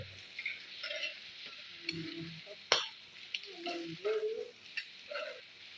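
Prawn curry bubbling in a pot as a spoon stirs it, soft irregular scrapes and clicks over a low simmer, with one sharp knock near the middle and no voices.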